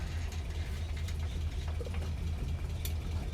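A Land Rover Series III engine idles in neutral with a steady, close low rumble and a faint mechanical ticking, running evenly for the whole stretch without voices.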